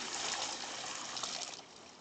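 Running water, a soft continuous hissing trickle, faint and steady before tapering slightly near the end, with no voices.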